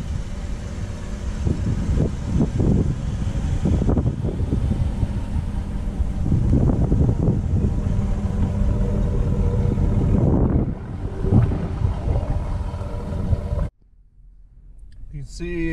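A 1999 GMC Yukon with a swapped 5.3 LS V8 drives along, a steady low engine and road rumble with wind noise and someone talking throughout, cutting abruptly near the end.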